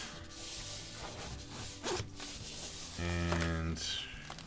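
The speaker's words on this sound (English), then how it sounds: "And it's got a zipper to open it up." Zipper pulled open on a leather DIY Watch Club watch case, short scratchy rasps up close, the last one a longer, louder run.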